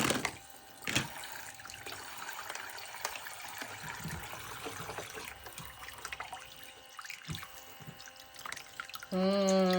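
Water trickles and drips into a small plastic toy sink while dishes are washed, a steady close splashing with scattered clunks of plates; a child and an adult are nearby but no clear speech is heard.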